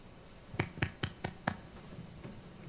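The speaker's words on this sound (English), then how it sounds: "We got applause" One person claps alone at a building trades meeting: five sharp, evenly spaced claps, then a fainter sixth, quiet against a hushed room.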